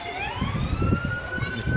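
A police patrol car siren wails close by in Peru during a curfew, a rising and steady electronic tone that passes loudly over street rumble.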